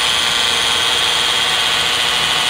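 A 4.5 amp electric drill runs continuously on a solar battery inverter, a loud, steady whining roar with no pauses or change in pitch.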